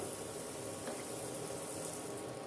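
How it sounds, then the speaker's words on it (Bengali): Water going into a pan of fried masala for a small-fish curry, a steady, faint, hissing bubble that sizzles evenly throughout with no voices. "এবারে এখানে দিয়ে দেব পরিমাণ মতন জল"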